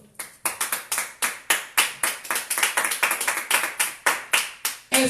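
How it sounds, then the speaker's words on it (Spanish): A church congregation claps in praise to the Lord, a loud run of sharp, roughly rhythmic claps with short decaying bursts, close and alone without talk. "aleluya, dale un aplauso al Señor"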